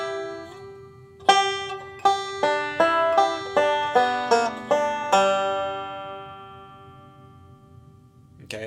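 A banjo picks a phrase of What a Friend We Have in Jesus, about ten clear plucked notes in a steady rhythm including a pull-off and a closing pinch, ringing out close and alone before a faint touch at the end.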